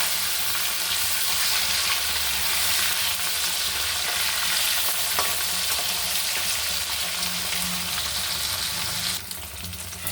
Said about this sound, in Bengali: এবার মাছটা দেখুন আমি উল্টিয়ে দিচ্ছি